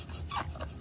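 A dog gives a short, soft whimpering vocalization, faint and close, lasting well under a second.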